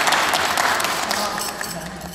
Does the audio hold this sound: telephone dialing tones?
no